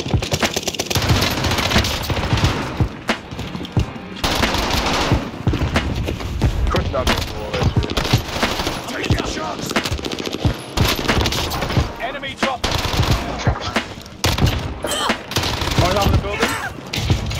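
Automatic and single gunshots crackle almost nonstop during a chaotic Warzone video game firefight, with occasional heavier thuds and booms, while players talk and shout over the shooting.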